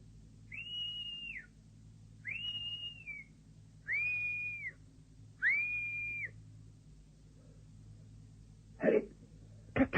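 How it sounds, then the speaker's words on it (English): Four sustained signal whistles in a radio drama, each about a second long with short gaps between, clear and fairly near over a low steady hum, followed by two sharp knocks. "I'll give the same signal as last time. 2 whistles."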